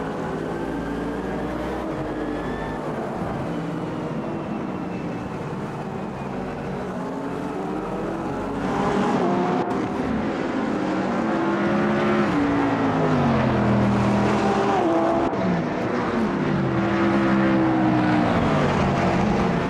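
Porsche race car engine screaming around the Nordschleife in a racing simulator, loud and continuous, revs rising and falling through gear shifts, growing louder and busier in the second half.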